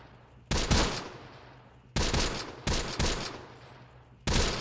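Gunfire from soldiers in the WWII strategy game Close Combat: The Bloody First, heard as several separate sharp shots and short bursts a second or so apart, each ringing out into a fading tail, with no talk over them.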